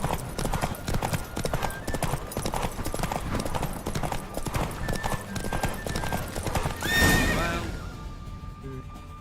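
A horse gallops hard in a race in The Witcher 3, rapid clip-clop hoofbeats with a whinny near the end, the pounding run fading off afterward.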